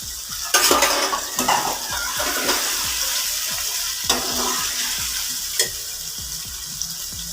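Potato and carrot pieces frying with tomato in a pan, a steady sizzle under repeated scraping and clinking stirs of a metal spoon against the pan, close and fairly loud, no talking.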